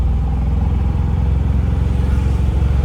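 Steady mid-pitched car engine drone from inside a moving vehicle, with a continuous throbbing rumble and slight rise as gears change, loud and close with no speech.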